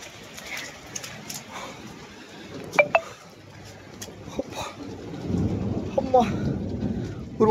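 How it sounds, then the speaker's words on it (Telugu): Thunder cracks and rumbles through a heavy rainstorm in Kuwait. Sharp nearby claps stand out over a steady hiss of rain that grows heavier midway, with a few faint bird calls. "ఉరుములు చూడండి ఉరుములు."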